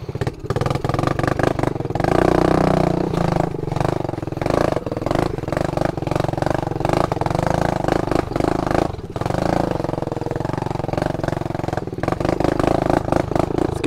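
A motorcycle engine runs continuously up close on a long dirt trail, rumbling and revving with uneven throttle bursts and rattling over rough ground.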